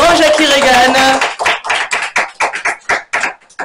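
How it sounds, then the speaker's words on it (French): A live television show audience claps for a guest, starting as blended applause under an announcer's voice and thinning into separate, sharp hand claps. "Applaudissements s'il vous plaît"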